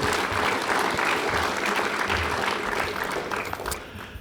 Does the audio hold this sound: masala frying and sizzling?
no